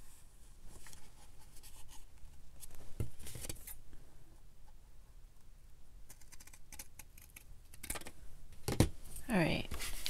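Scissors cut a paper junk journal tag in short, close snips and rustles, scattered through the clip, with a person talking over them.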